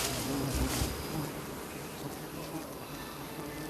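A swarm of giant honeybees around a wild hive in the jungle, a dense, steady buzzing drone that fills the clip at moderate loudness with no pause.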